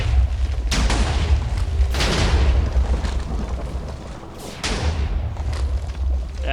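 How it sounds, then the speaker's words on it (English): Explosions from a boss bombarding the area in Minecraft, several deep booming blasts with rumbling tails in fairly quick succession, heard alone without talk. "He's bombarding the area."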